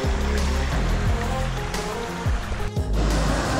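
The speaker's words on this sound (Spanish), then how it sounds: "acá tenemos una vista de la cascada un poquito más de frente" A waterfall and river near San Martín de los Andes, Argentina, roar with a loud, steady rushing wash of water that fills the whole clip.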